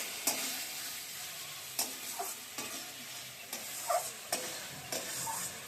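Spice paste sizzling in oil for a Bengali koi fish curry with cauliflower and potato, a soft steady fry broken by occasional sharp stirring clicks and scrapes, quiet and close with no talking.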